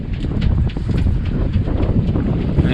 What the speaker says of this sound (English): the wind's gone from nothing to 16 knots in a matter of seconds